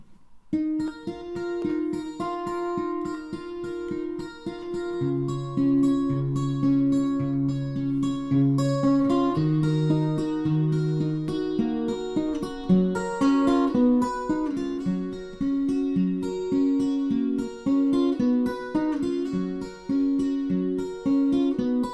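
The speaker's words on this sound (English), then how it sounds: "wanted you to listen to the guitar part" An acoustic guitar plays a steady fingerpicked melody, individual notes ringing clearly over low bass strings, with no voice.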